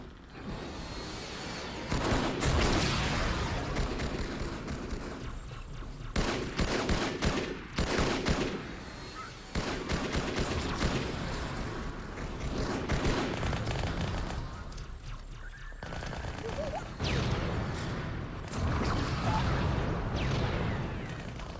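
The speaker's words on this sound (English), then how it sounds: "Friendly's moving out, covering fire!" Sustained automatic gunfire and bursts of shots from a Halo 2 firefight, loud and nearly continuous with brief lulls, with crashes and mechanical clatter mixed into the battle.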